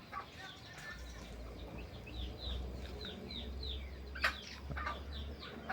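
Jungle fowl kept free-ranging, clucking and calling in a steady series of short repeated notes over a low constant background hum, with one sharper call near the end.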